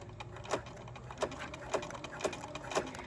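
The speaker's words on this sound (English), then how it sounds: "So we're sewing forward for about 1 inch." A sewing machine stitches forward along the side of a body pillow, giving faint, regular ticking pulses about every half second over a soft mechanical hum.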